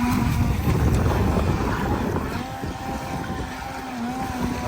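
A small RC boat motor runs steadily out on choppy water on a windy day, a continuous buzzing drone with wind rumbling across the microphone and no talking.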